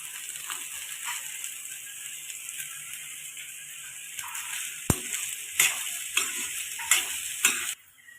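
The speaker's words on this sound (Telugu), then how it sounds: "ఇప్పుడు ఇందులో వచ్చేసి దొండకాయలు వేసుకొని బాగా కలుపుకోవాలి" Ivy gourd (tindora) stir-fried in a pan after garlic paste, with a steady close sizzle and a run of sharp spatula scrapes and clinks toward the end.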